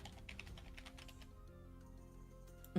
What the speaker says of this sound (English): The fact that I heard you typing before it went through.